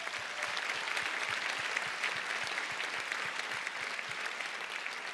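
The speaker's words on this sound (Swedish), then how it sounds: "Stadsteatern, en extra applåd" A theatre audience at an awards gala gives a steady round of applause, continuous and moderately distant, with the massed clapping holding evenly throughout.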